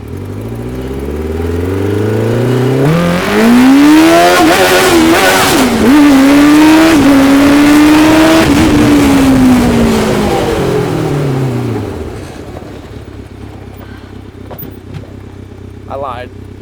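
Motorcycle engine from a Yamaha R6 fitted to a go-kart, revving and accelerating loudly up through the gears with a rising, whining pitch, then easing off and fading to a low idle; people talk over it.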